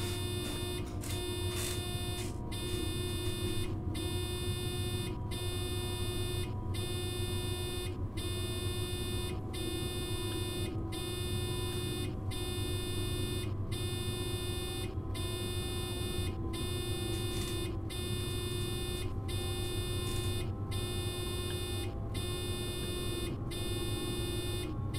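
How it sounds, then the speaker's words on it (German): A train warning signal in Train Sim World 3 beeps in a steady, evenly spaced pulse throughout, sounding over a low cab hum and engine drone. "Herrlich das Gepiepe, oder?"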